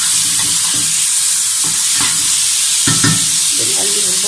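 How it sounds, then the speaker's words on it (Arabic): Onions sizzle and fry in oil in a pan for Syrian kibbeh, a loud steady hiss broken by several scraping stirs of a utensil against the pan, close up, with no talk. "بنقلب البصل تقلبتين كده قبل ما نضيف اللحمة"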